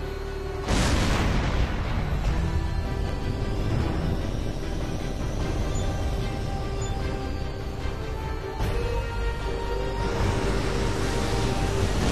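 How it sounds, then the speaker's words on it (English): Incoming missile fire and heavy explosions in a flight combat game, a sudden loud booming blast followed by a sustained roaring rumble, then a second burst near the end, dense and close. "dodging incoming missile fire"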